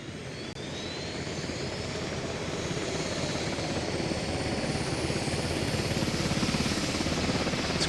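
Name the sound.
helicopter in a video game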